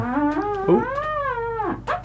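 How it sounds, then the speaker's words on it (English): A stressed penguin's call, a wavering, rising and falling harmonic cry that sounds close and fairly loud, held for about two seconds with a brief break near the end. "Isn't that a stressed penguin?"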